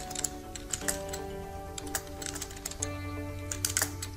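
Keys on a computer keyboard tapped while a command is typed into a Linux server terminal, quick irregular clicks at close range and fairly quiet, with no one speaking.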